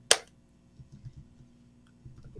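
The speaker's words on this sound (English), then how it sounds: "Clap again in 3," A single sharp hand clap made to sync recordings, crisp and close at the very start, followed by quiet room tone with faint small shuffling noises.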